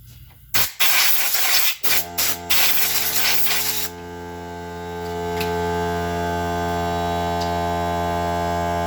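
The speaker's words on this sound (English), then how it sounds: "I always like to blow these off before I pull them out." Compressed air blowing debris off the ignition coils of a 2016 Mini Cooper S engine, heard as several loud, close bursts of hissing air in quick succession, followed by a steady electrical hum once the blowing stops.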